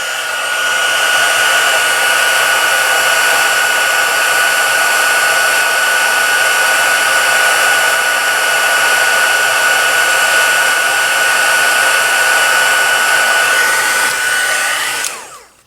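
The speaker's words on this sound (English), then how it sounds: "let me turn the heat tool on again." A heat tool blows continuously to melt silver embossing powder on a card, a loud, steady whooshing hiss with a high whine that holds for about fifteen seconds before switching off.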